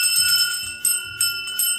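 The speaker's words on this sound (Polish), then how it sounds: "dla Was zabrzmi ostatni dzwonek" School bell at an end-of-year ceremony rings out in a few bright, sustained metallic tones, with repeated strikes and a steady ringing hum, loud and alone.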